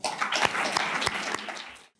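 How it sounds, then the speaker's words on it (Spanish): Lecture-hall audience applauding to welcome a speaker, a dense patter of many hands clapping at moderate volume that tapers off and stops near the end. "Con un aplauso cálido y expectante,"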